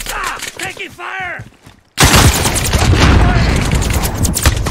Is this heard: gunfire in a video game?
yes